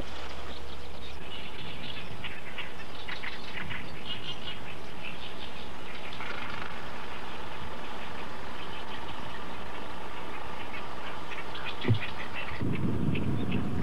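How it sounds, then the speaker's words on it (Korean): Migratory and resident birds calling by reed beds along the Imjin River in early July summer, a dense busy chorus of chirps and calls over a low steady rumble, with a brief louder burst near the end. "철새와 텃새들의 요란한 소리"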